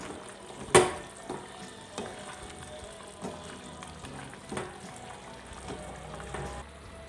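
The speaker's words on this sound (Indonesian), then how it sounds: "Lalu diaduk agar tercampur merata bumbunya." Cooked chicken is stirred with spices in a pan for chicken biryani, giving a steady low sizzle with irregular scraping strokes and a sharp clatter near the start.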